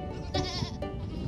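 A goat on a farm where deer are also raised gives two short, close bleats over a steady background hum, with no speech.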